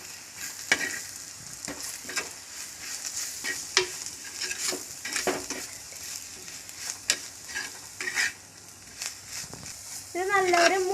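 A spoon scrapes and stirs Kashmiri chili, masala powder and turmeric in a hot pan, with repeated close scraping strokes over a steady sizzle and a brief voice near the end.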